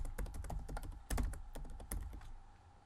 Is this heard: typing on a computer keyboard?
yes